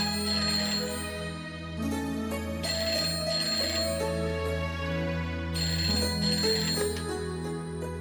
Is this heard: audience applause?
no